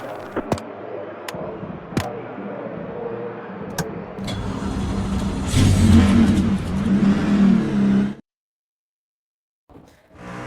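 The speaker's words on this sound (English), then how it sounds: "start your engine!" Race truck engine in the NASCAR 25 video game revving hard at the start of a Las Vegas race, a steady loud drone with sharp throttle blips, swelling to a peak before cutting off abruptly, then faint noise returning.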